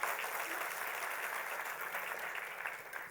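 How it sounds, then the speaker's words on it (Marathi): An audience at a Marathi business school event applauds loudly and continuously, a dense wash of many hands clapping that holds steady throughout without a break. "तर त्याच्यासाठी एकदा जोरात टाळ्या होऊ द्या"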